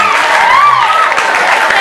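A crowd claps for the MC at a school Maulid Nabi celebration, a short, loud burst of applause with some murmuring voices mixed in.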